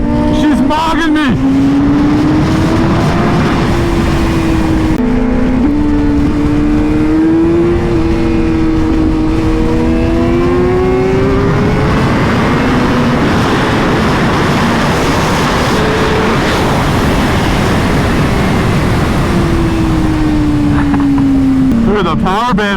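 A Honda CBR Fireblade motorcycle engine revs loudly and continuously, its pitch rising and falling through throttle sweeps, with a voice talking over it throughout.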